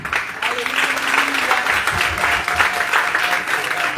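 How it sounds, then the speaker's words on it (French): Applause from a congregation in church at an Ascension Mass, continuous mid-level clapping, with a voice briefly audible through it. "Il faut vous applaudir."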